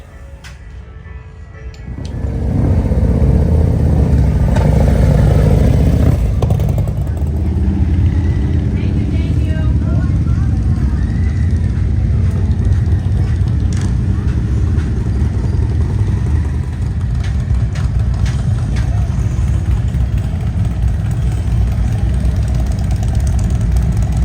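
A CVO Road Glide motorcycle rolls out at a Sturgis rally, its engine starting up then rumbling loud and steady at close range, a deep continuous drone with no talk audible over it.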